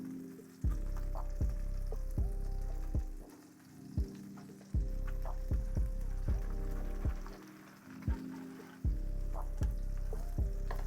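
A trout fillet fries skin side down in a pan, giving a steady sizzle that repeatedly drops and returns in bursts with occasional clinks, close and fairly quiet, with no voices.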